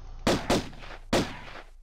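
Three booming gunshots in the 1996 video game Tomb Raider, two in quick succession then a third after a pause, each with a short decaying echo.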